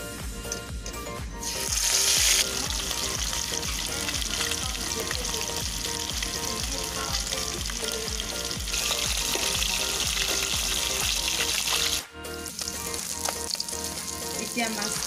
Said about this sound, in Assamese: এতিয়া তেলটো গৰম হ'ল এতিয়া মাছটো ভাজি লওঁ